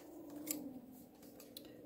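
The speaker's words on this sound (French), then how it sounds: "On va juste prendre les ciseaux." Scissors snip through leftover craft paper for a tag, giving a couple of faint, crisp cuts close by against a quiet room, one sharper snip near the start and another toward the end.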